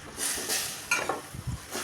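Chopped banana flower and potato are stirred in a frying pan, soft scraping strokes over a faint, gentle sizzle, close and quiet.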